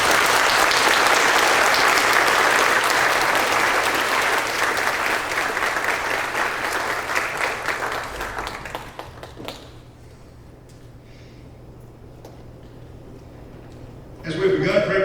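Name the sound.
audience applause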